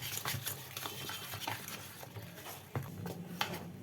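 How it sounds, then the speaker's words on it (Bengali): Gram flour besan batter for pakora being whisked steadily in a bowl, a continuous soft scraping and slapping churn with small rhythmic bursts, close and moderately loud, no voices. "এবার পাঁচ থেকে সাত মিনিট ফেটিয়ে নিচ্ছি"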